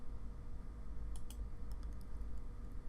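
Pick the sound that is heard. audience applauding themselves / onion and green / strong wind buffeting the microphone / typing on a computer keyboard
typing on a computer keyboard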